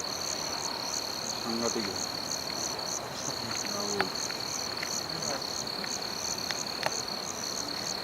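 Dense insect chirping at night, a steady high whine with pulsing calls and scattered clicks, with frogs croaking faintly underneath and a brief voice.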